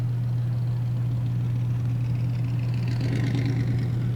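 A rat rod car's engine idles at the Kustom Kemps Sundown Cruise, giving a steady low hum that runs unchanged and loud throughout, with faint crowd noise in the background.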